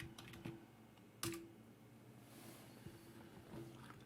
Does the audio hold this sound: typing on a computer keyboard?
yes